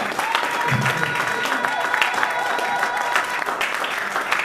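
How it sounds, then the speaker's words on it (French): A church congregation claps together in sustained, dense applause that fills the room at a fairly even level, with crowd murmur mixed in. "Acclamons pour la parole du Seigneur."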